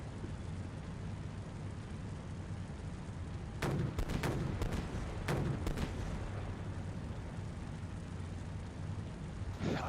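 Several sharp explosive bursts from 30mm grenades detonating inside buildings in the Steel Beasts Pro PE combat game, clustered together near the middle over a steady low rumble of vehicle engine noise.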